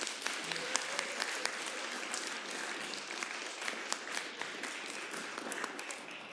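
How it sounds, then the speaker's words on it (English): Audience applause for panelists and moderators at an evening event on Indigenous literatures, a steady even wash of many hands clapping, fairly soft and distant, running throughout. "If we could give them another round of applause"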